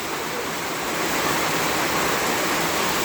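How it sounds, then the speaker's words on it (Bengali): Heavy afternoon downpour of rain falling steadily as a dense, loud, continuous roar of broadband hiss with no breaks and no voices. "বৃষ্টির তীব্রতা বেড়ে গেল।"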